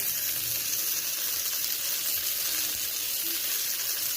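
Crabs fry in a pan with spices, giving a steady, even hiss of hot oil that is loud and close and continues without a break.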